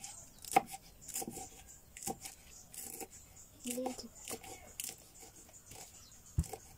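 Quiet, irregular knife taps of chillies being chopped by hand on a board, sharp separate strikes spaced unevenly, close but faint.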